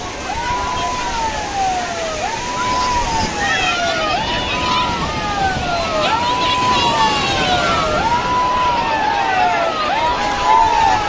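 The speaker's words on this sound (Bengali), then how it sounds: "ওই নুলিয়ারা কিন্তু একদম মাইকিং করে সাইরেন বাজিয়ে কিন্তু তুলে দিচ্ছেন সমুদ্র সৈকত থেকে" A rising and falling wail from a siren that lifeguards sound to clear tourists off a beach at high tide repeats in long sweeping cycles over steady wind and surf, with crowd noise faintly underneath.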